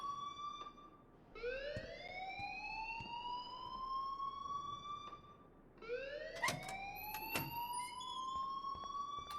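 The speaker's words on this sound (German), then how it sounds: "please turn off that alarm since that's your job" An alarm in the video game Life is Strange sounds twice as a rising, siren-like wail, repeated at a steady pace, moderately loud, with sharp clicks and bright pings scattered on top and no talking.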